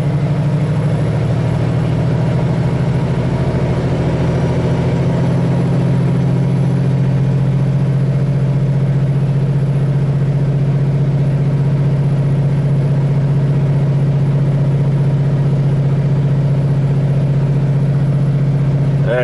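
Vehicle engine droning steadily in sixth gear at low road speed, a loud continuous low hum with no shifts or pauses throughout.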